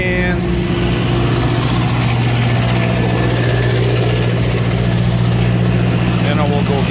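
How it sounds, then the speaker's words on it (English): Rock crusher plant with shaker, main belt, feeder belt and screener all running, a loud continuous low mechanical drone with steady hum and rattle throughout. "Shaker, main belt, feeder belt, screener's going,"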